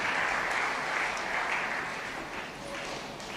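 A church congregation claps together in sustained applause, a dense, even wash of many hands that fades slightly toward the end, with no voices over it.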